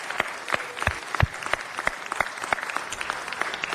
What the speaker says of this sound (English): Give them all a round of applause and thank them.